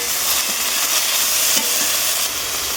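Thin strips of eggplant frying in a little oil in a hot wok, a loud steady sizzle with occasional stirring scrapes, close and continuous with no talk.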